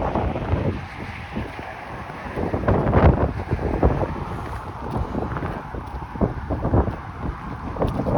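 Wind buffets the microphone outdoors while walking along Islington Avenue in Etobicoke, a loud, continuous, rumbling roar that swells and gusts for the whole stretch.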